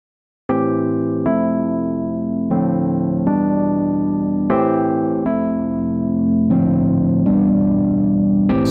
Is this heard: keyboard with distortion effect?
yes